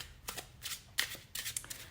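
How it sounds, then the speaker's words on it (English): A tarot deck is shuffled by hand at close range in a series of quick, crisp riffling bursts with short pauses between them. The shuffling is fairly quiet, and no one speaks over it. "let's shuffle your deck, your tarot deck."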